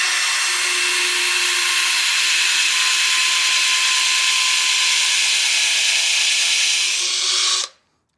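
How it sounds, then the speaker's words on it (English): A power drill whirs steadily and loudly through wood for about seven seconds while building a bench in a garage, then cuts off abruptly. "We'll drill that."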